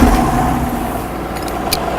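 A tractor's engine runs steadily and close by, a continuous low rumble holding at an even level with no talk over it.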